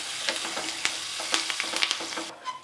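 Ghee tempering with curry leaves sizzles and crackles in a hot pan for hotel-style Andhra dal pappu, a steady close frying hiss broken by sharp pops that settles quieter at the end.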